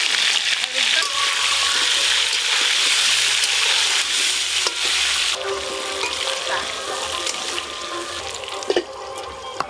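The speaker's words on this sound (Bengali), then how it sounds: "মাংসের জন্য আলুগুলো লাল লাল করে ভেজে নেব।" Potatoes fry in hot oil with a loud, dense, continuous sizzle that crackles on steadily, thinning slightly later with a few clinks of utensils.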